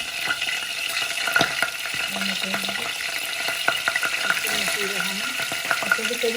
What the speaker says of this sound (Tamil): எண்ணெய் கொதித்து கொண்டு வருது அதுக்கு கடுகு வெந்தயம்